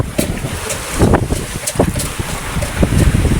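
Strong wind at sea on a fishing boat, buffeting the microphone in loud, gusty rumbles with rustling and splashing underneath.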